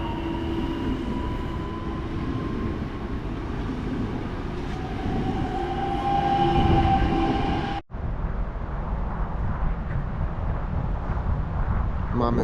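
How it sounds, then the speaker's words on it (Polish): A Warsaw SKM commuter train on line S3 toward Legionowo departs from Warszawa Toruńska station, a loud rumbling roll with wind buffeting the microphone, briefly cut off near the end before the rumble continues. "Rusza skład do Legionowa, linia S3."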